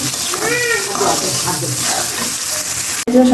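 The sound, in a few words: dried fish frying in a pan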